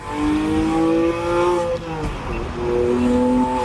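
A 2006 Porsche Carrera Cabriolet engine revs up and down close by, its pitch rising and falling through the gears, loud and steady with no talking.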